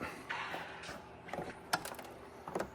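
A T25 screw threaded into a Tesla Model X rear carbon fiber diffuser gives faint, close ratcheting clicks and small mechanical ticks in irregular bursts, quiet with no speech.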